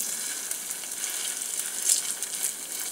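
Fritters made of grass pea lentils and fragrant leaves fry in hot oil with a steady, bright sizzle that crackles evenly and close up, with no voices.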